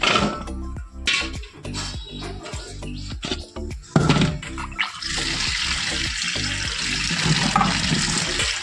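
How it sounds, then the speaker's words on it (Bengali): Taro stolons washed by hand under a running tap: some clattering and handling knocks at first, then a steady, close rush of flowing water for the last few seconds. "কলে জল থাকতে থাকতে লতিটাকে ধুয়ে নেব।"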